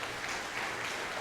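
A congregation gives a round of applause, a steady dense wash of many hands clapping together, fairly quiet and without pause over the short stretch.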